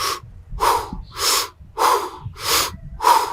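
Six strong, evenly spaced breaths through the mouth, each a loud airy rush, repeating in a steady rhythm close to the listener.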